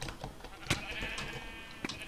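Sheep bleating in the Minecraft video game, with a couple of short nasal bleats rising over a busy background of game sounds and clicks.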